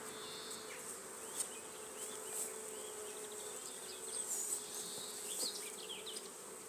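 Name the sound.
swarm of bees buzzing in a WBC hive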